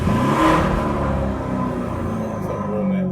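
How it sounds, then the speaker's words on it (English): A tuned Lamborghini Urus engine revs up in a swelling roar, then holds a lower, rumbling high idle with a steady whirring drone close by. "now rev it."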